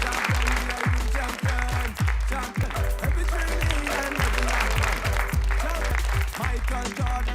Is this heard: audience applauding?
yes